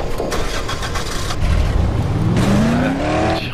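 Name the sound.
car engine struggling to start and revving, Dead Island video game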